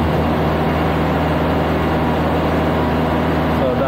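Diesel engine of a Niftylift HR21D MK2 boom lift running at high revs, a loud, steady, unbroken drone with a strong low hum that holds constant from start to finish.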